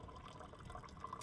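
Green tea (Bi Lou Chun) poured from a gaiwan, a brief soft trickle and splash of water into a cup, close and quiet with no talk.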